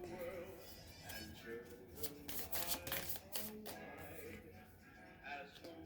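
Tarot cards being shuffled by hand during a reading, soft irregular riffling and flicking at close range, faint, with a person talking over parts of it.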